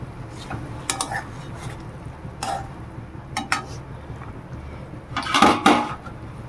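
Metal clinks and scrapes of pieces of fish going into a pot of Bengali fish curry and being stirred: scattered clatters, with the loudest burst near the end, over a low steady kitchen hum.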